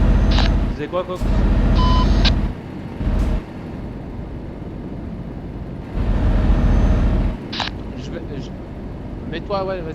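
A truck backs up with intermittent reversing beeps and hissing air brakes, heard amid bursts of engine noise while people talk in French nearby.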